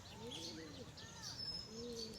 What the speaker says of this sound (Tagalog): nakakatuwa ang babait po ng mga kalapati tsaka mga ibon na kulay black